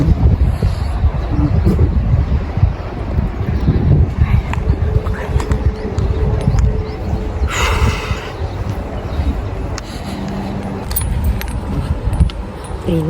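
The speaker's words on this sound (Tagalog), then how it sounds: "Kasi ang hangin-hangin dito." Strong hot wind in Abu Dhabi blows in a constant, loud, rough rush against the microphone, with faint clinks and passing noises mixed into the steady roar.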